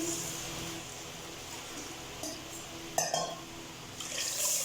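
Water is poured into a cooking pot for rice, a quiet trickling and splashing with a few brighter splashes and metallic clinks, building toward the end.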